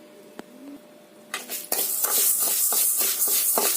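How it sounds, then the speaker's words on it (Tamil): Black urad dal is dry-roasted in a pan, starting with a few light clinks, then a loud metal clatter as the lentils are poured in, followed by steady rattling and scraping as they are stirred. "அடுத்தது கருப்பு உளுந்து போட்டு வறுத்து எடுத்துக்கலாம்"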